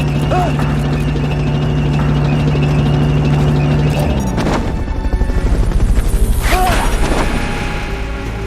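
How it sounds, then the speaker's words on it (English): A helicopter in the video game Metal Gear Solid: Peace Walker gives off a loud, steady mechanical drone with a heavy rhythmic thumping that rises near the end, broken by a few sharp impacts. "Subject confirmed onboard helicopter."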